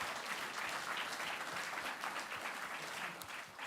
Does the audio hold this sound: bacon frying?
no